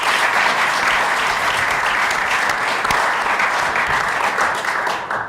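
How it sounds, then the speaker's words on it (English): A crowd in the state capitol gives legislators a round of applause during a governor's announcement with the Vice President present, a loud, dense, sustained roar of clapping from many people that fades slightly at the end. "So let's give them a round of applause."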